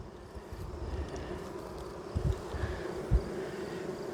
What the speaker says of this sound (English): And we got just so many bees.